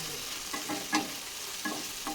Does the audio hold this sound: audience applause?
no